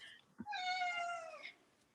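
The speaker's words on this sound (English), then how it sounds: "That's my cat telling me he's back inside and wants some attention." A house cat gives one clear, drawn-out meow, fairly close and alone, preceded by a soft thump.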